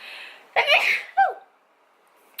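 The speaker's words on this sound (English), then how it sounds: "I have to sneeze." A single close sneeze with a sharp inhaled buildup, then a brief vocal sound afterward, in an otherwise quiet room.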